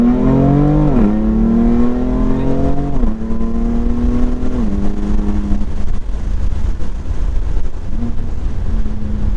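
A loud BMW F80 M3 engine, tuned to 500 wheel horsepower, drops pitch through several downshifts, then settles into a deep rumble before revving up again near the end.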